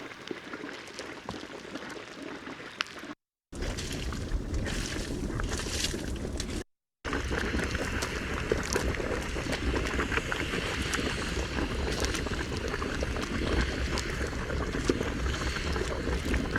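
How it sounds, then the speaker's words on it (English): Bubbling mud pots at Yellowstone in a field recording, a steady churning, gurgling wash that runs continuously at close range, with two brief dropouts. "he's had these sounds from mud pots"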